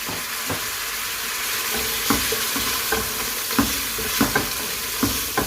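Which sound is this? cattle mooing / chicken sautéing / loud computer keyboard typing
chicken sautéing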